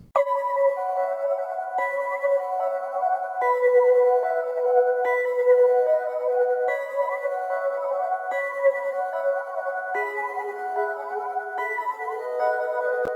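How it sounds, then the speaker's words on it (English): A shimmering synth melody from the Portal preset with phaser plays continuously, its bright sustained tones sweeping and shifting, with notes changing every couple of seconds and no voices. "This is the Portal preset, phased, and that sounds like this."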